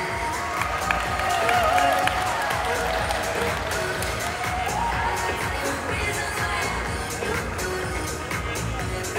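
Crowd at an Olympic-style boxing gala, Świętokrzyskie versus Lubelskie, cheers and claps after a bout. A broad roar of voices with scattered clapping and shouts fills the hall, loudest early and then holding steady.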